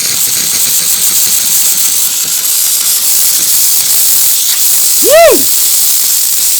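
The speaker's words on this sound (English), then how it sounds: "So we can go ahead and clear out this steam wand." Steam wand of a single-boiler espresso machine being purged, a loud continuous hiss of wet steam throughout, with a brief excited vocal exclamation near the end.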